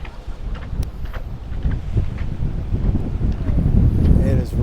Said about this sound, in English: This wind really makes it cold.